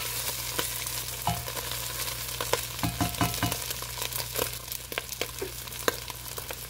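Meat fries in a cooking pot with a steady sizzle, while a utensil scrapes and knocks against the bottom in scattered clacks and short rasping strokes, close and fairly loud.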